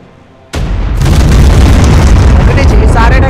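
Bomb attacks explode in the video game ARK Primal Fear: a sudden loud blast after a quiet moment, then a second surge that swells into a continuous roaring rumble of overlapping explosions.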